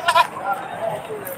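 A native goat bleats briefly at a Padre Garcia livestock market, a short nasal call near the start standing out over the market's continuous background chatter and noise.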